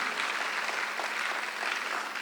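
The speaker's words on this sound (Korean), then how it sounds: "빨리 박수해." A church congregation applauds during a Sunday worship service, with steady, dense clapping that holds at an even level for the whole stretch, with no voices standing out.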